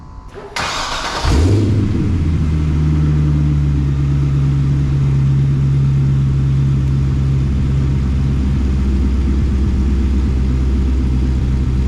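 A 1963 Corvette Split Window Sting Ray replica on an all-tube chassis cranks and fires up, then settles into a loud, steady, rumbling idle up close.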